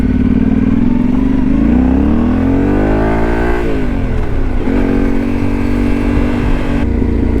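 Yamaha Tenere 700 motorcycle engine riding on a high mountain road, loud and steady with pitch climbing and dropping through gear changes and sharp turns, close up with no voices.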